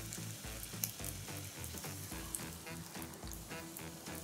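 An egg frying in a pan beside cooked rice gives a steady, loud sizzle with a couple of sharp pops; low tonal music-like hum runs underneath throughout.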